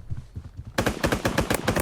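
A gold MP40 submachine gun fires in a video game: a soft patter of faint shots, then a loud, rapid burst of evenly spaced automatic gunfire that carries to the end.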